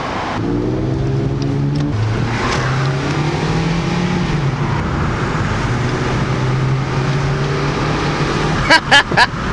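An old Audi's engine drones and revs while driving, the pitch rising and falling with gear changes over road noise, with a few sharp clicks near the end.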